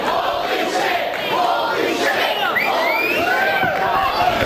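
Wrestling crowd roaring and cheering loudly and continuously, with shouts rising out of the dense wash of voices throughout.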